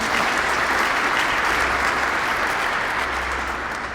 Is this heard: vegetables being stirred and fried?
no